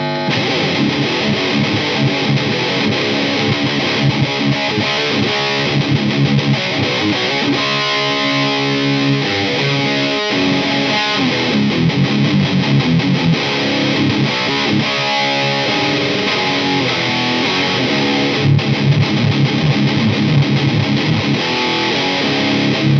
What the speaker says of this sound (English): this is with a Tube Screamer with the drive pretty much all the way off, the levels at 1 o'clock and the tones all the way up